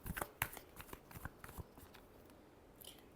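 Close, irregular papery flicks and riffles of a tarot deck being shuffled by hand, the rustling bursts growing sparser and softer toward the end.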